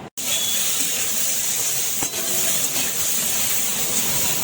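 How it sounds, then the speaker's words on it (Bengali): Boiled pasta dropped into hot white oil in a pan, a sudden burst into a loud, steady hissing sizzle that holds close and even, with no talking. "এইবার আমি একটুখানি সাদা তেল আবার অ্যাড করছি, যেহেতু বয়েল পাস্তাগুলোকে একটু হালকা ফ্রাই করে নেবো আমরা।"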